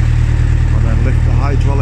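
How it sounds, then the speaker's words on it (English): A tractor hitched to a Ferguson 3-ton hydraulic tipping trailer runs close by with a steady low rumbling engine and slight rise in revs, with someone talking over it. "make sure the tractor's running, give it some revs"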